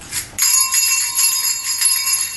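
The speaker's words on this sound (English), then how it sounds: "Inside was a silver bell." A small silver bell is shaken, ringing in quick repeated jingles with a bright, sustained shimmer, close and clear with no talking.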